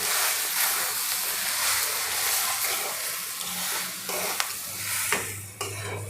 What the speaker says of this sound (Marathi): ते सगळं मिक्स करून घेऊया.